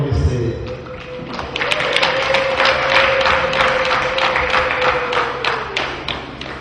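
Wedding guests inside a church break into dense, rapid applause. A long, held vocal tone runs beneath the clapping, which stays loud until it tapers near the end.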